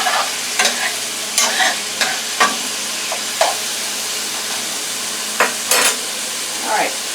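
Oil sizzles in a pan for a pineapple chicken stir fry, with loud, repeated bursts of stirring and scraping over a steady frying hiss, no talk.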